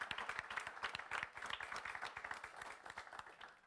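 Conference audience applauding in a hall, a modest group of distinct individual claps in an uneven rhythm, fairly faint and sparse, continuing for a few seconds.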